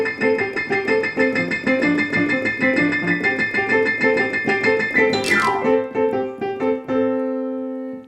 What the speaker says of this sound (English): he's playing 3 notes very high up the piano, and he's playing them as hard and fast as he can